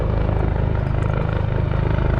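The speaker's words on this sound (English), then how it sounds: "Sorry, the helicopter's coming, so I'm gonna run this way." An air ambulance helicopter passes overhead, its steady, loud rotor thumping filling the whole stretch with a dense, continuous chop and no voices.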